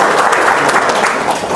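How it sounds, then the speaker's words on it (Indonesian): A live audience bursts into loud, sustained applause, dense clapping from many hands filling the room for over a second without a break. "Tepuk tangan dong."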